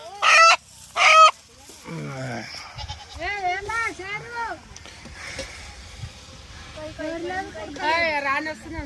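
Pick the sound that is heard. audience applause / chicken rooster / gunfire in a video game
chicken rooster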